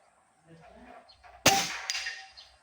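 A PCP air rifle fires once at a target around 60 meters, a sharp close crack with a brief ringing tail, preceded by faint low murmuring.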